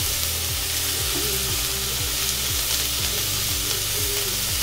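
Classic mirepoix vegetables sizzling in a Dutch oven for braised ox cheek, a loud, dense, continuous frying hiss with a faint rhythmic stirring pulse, close and alone.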